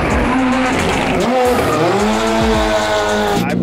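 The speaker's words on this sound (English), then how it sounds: "Ken Block is about to come round that corner." A rally car howls loudly through a hairpin during a rally event, its engine note rising and falling as the tyres squeal and skid through the slide, close and continuous for several seconds.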